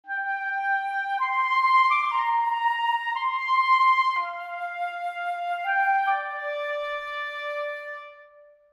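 Flute and clarinet sound together an octave apart, starting on G an octave and a half above middle C, then move through a slow melodic line of clean, sustained woodwind notes with no talking.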